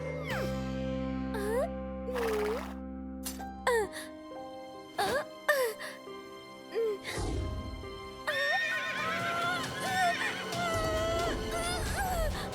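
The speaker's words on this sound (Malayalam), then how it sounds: "എത്ര മനോഹരമായിട്ടാണ് കുതിര ഓടിക്കുന്നത്." A cartoon horse neighs repeatedly in shrill, wavering whinnies, with hoofbeat clip-clop and other animated sound effects in between, loud and close throughout.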